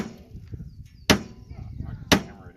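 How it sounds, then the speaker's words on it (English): Two sharp, solid hammer blows about a second apart, close by, over low background noise and faint voices. "Hammer it in."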